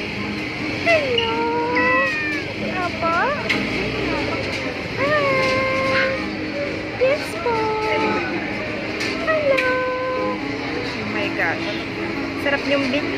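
A cat meows repeatedly at a pet shop in Cartimar, a series of clear, close, rising and falling mews spaced a second or two apart over steady background noise.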